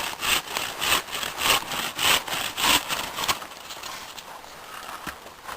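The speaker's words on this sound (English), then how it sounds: "I basically start chunking up the firewood with the bow saw." A bow saw cutting through firewood outdoors, rhythmic back-and-forth rasping strokes close by that slow and fade toward the end.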